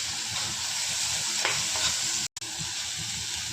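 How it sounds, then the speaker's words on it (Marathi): A masala of black chilli powder and turmeric with cluster beans is sautéed in a pan, a steady close sizzling hiss with a few soft stirring scrapes and a momentary break near the end. "मसाला छान परतून घ्यायचा."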